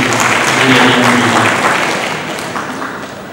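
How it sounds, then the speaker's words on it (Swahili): An audience claps loudly for a minister at an awards ceremony for officers, a dense close burst of applause that slowly fades. "tupigie makofi mengi sana Mheshimiwa Waziri"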